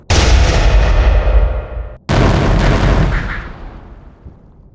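Two heavy artillery blasts from a Wyvern battery, a stop-motion sound effect: each a loud, close boom that rolls off in a long fading rumble, the second following about two seconds after the first, with no voices.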